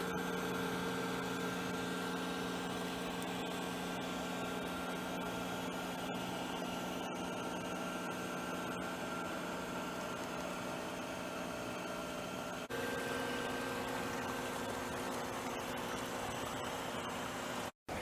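A fog generator hidden behind buildings makes smoke for a G scale garden railroad fire scene, a steady, even electrical hum with faint hiss that cuts off abruptly at the end.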